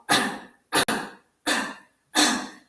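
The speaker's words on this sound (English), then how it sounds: "now I'm gonna cough" Four sharp, forceful coughs, evenly spaced with short silent gaps between them, close and loud.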